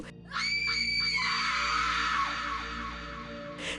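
Several voices scream together in a long, piercing horror-story effect, rising sharply and holding loud for about three seconds before fading, set over a low droning background.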